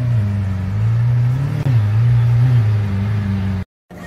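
Roadster car engine running with the roof open, a loud steady engine drone with a brief rev near the middle before it cuts out abruptly.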